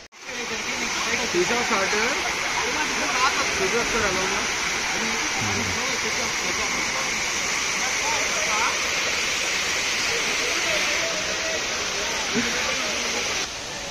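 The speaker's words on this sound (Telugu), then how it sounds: "అదిగో కనిపించేదే వాటర్ ఫాల్. చిన్నదే, పెద్దదేం కాదు కదా, చిన్నదే." The small Amruthadhara waterfall at Maredumilli pours in a steady, dense rush of falling water that holds constant throughout, with voices talking now and then over it.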